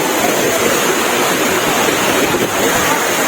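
Hulugan Falls roars as a loud, continuous rush of falling water, dense and unbroken from start to finish.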